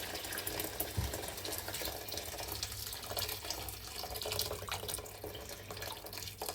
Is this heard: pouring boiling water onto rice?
yes